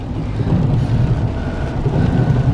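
Steady rain falls during a severe thunderstorm in Independence, Missouri, heard from a vehicle on Route 291 as a continuous loud wash over a deep low rumble.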